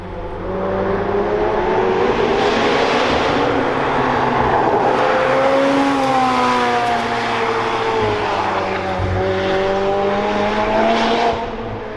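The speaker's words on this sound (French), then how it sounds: "écoutez ce flat 6. GT3 RS 991." Porsche 911 GT3 RS of the 991 generation at a mountain supercar event in Chamrousse, its flat-six engine winding up loudly and continuously through rising and shifting gears, close by and alone for about twelve seconds.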